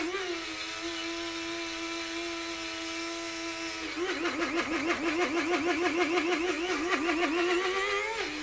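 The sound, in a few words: electric grinder running while being shaken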